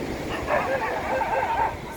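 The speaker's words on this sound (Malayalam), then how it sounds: "ഓഹോ, ഈ പട്ടി" A dog barks outdoors near the sea, a few yaps blending into a noisy background of wind, surf and distant babble, moderately loud.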